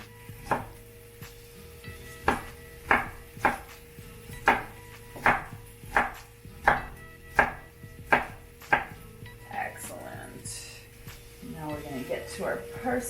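Knife chopping vegetables on a cutting board for a creamy vegan cauliflower and parsnip soup, about a dozen steady crisp chops, then softer scraping and clattering, with talk underneath.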